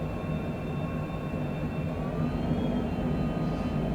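Steady drone of a light aircraft flying its approach to runway 16 at Bend, Oregon, a constant engine and airflow rumble heard from inside the cabin with no talk.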